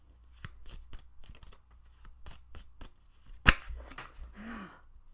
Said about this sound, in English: I'm shuffling I want to shuffle these first